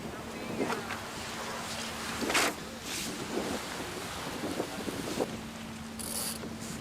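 A sailboat racing on open water in the Chicago to Mackinac race, with steady wind rush and wash of water against the hull, occasional louder gusts and splashes, and faint voices in the background.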